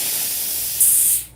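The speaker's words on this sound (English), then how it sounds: "we can clear any possible wetness out of the hose by just spraying that steam away" A steam iron's hose blasting out steam, a steady broad hiss that swells louder for a moment before cutting off, close and alone.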